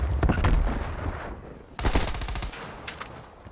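Rapid automatic gunfire in a Call of Duty match, two loud bursts of fast repeated shots separated by a brief lull, then a short trailing volley, with no talking over it.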